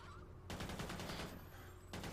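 Gunfire in Call of Duty: Ghosts Extinction mode, dense rapid automatic bursts from an assault rifle or SMG, loud and nearly continuous, starting after a short pause.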